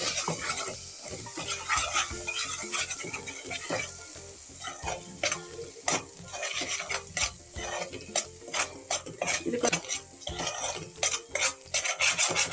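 Cauliflower kurma masala with tomato, poppy seed and coconut paste frying and being stirred in a pan: steady close sizzling with repeated scraping strokes of a spatula against the metal throughout.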